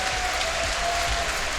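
Crowd cheering and applauding at a Dota 2 esports match between Na'Vi and TongFu, a steady, dense roar of clapping and voices filling the whole moment, with a faint tone running beneath.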